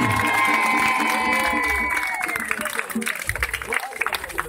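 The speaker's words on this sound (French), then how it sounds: "Allez, on applaudit encore." A crowd at a political campaign event cheers and claps, with shouts rising over the applause at first, then the clapping thins into scattered bursts.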